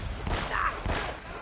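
Gunfire in Uncharted: Drake's Fortune: a few muffled, booming shots in quick succession, heard alone at moderate loudness.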